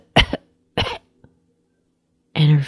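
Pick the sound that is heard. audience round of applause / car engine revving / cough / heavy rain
cough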